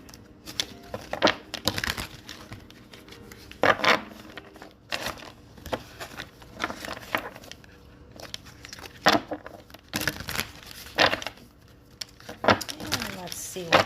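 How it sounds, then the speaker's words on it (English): Quick bursts of card riffling and snapping, several short shuffles spaced a second or two apart, close up with light handling noise between. "let's just give this deck a little shuffle here"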